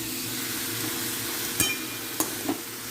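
Tetelakucha greens fry with spices in a pan under a steady sizzle, while a few sharp clinks of the stirring utensil against the pan mark the stirring.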